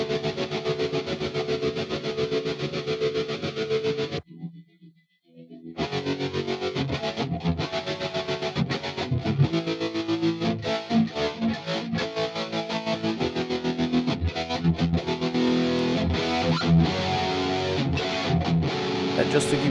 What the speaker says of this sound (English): let me add maybe tremolo. We have tremolo here.